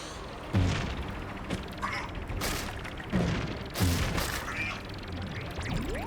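Rocket ride launch and explosions in Mario + Rabbids Sparks of Hope, heard as several booming blasts spaced over a few seconds above a busy, constant game soundtrack, loud and punchy.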